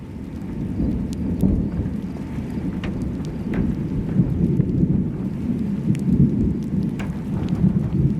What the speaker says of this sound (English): Back in the rain.